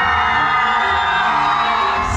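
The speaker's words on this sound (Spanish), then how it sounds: "el grito de la familia del novio?" Groom's family at a wedding party shouting and cheering together, a dense, loud crowd roar of yells and whoops lasting a couple of seconds.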